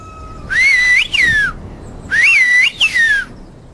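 Villagers of Antia in Karystos, Evia, whistle their traditional whistled language in two loud, clear phrases, each a pair of sliding, warbling whistled tones, with a short pause between phrases and no talking.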